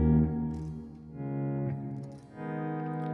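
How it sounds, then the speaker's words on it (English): Electric guitar volume swells through a Fender Twin amp model on a Line 6 POD Go with big reverb, notes blooming in slowly and sustaining in a continuous layered wash that rises and fades. "using that volume pedal on the PodGo, really bringing some nice swells"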